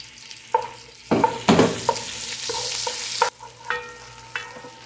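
Garlic sizzling in melted butter in a pan while a mutton caldereta is being cooked, a steady fry with stirring clinks and scrapes breaking through at irregular moments.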